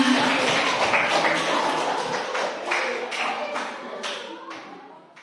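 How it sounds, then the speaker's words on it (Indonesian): A ninth-grade class claps together in a classroom, with sharp, fairly rhythmic slaps that start loud and gradually fade over several seconds. "Oke, tepuk tangan untuk kita semua."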